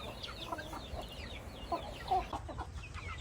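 Native chickens clucking softly around a Philippine farmyard, a scatter of short, faint clucks and calls over a low background, with no one talking.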